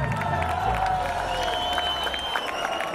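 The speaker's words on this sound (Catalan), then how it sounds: "així que fort aplaudiment per ell." Concert crowd applauding and cheering for a trombonist at the Santa Tecla festival in Tarragona, a broad mix of clapping and shouts with some sustained tonal sound running underneath.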